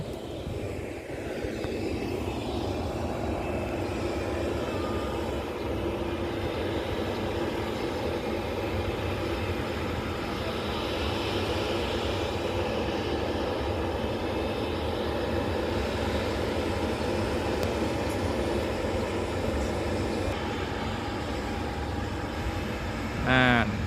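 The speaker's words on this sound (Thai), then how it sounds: "ครื่องบินลำนั้นกำลังจะขึ้นนะครับ" Steady, loud airliner engine roar rising into a sustained rumble as a Nok Air plane takes off at an airport, heard from a distance with a constant broadband wash throughout.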